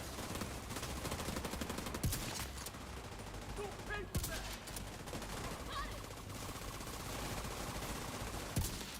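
Rapid automatic gunfire crackles in The Division 2 during a boss fight, with bursts of shots and sharp louder cracks around the two-, four- and nine-second marks, fairly faint and continuous under a game soundscape.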